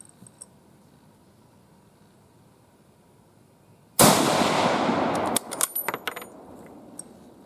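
A Japanese contract Kar98k bolt-action rifle fires PPU ammunition outdoors. After a quiet stretch comes one loud, close report with a long decaying tail, then several sharp metallic clicks and clacks as the bolt is worked.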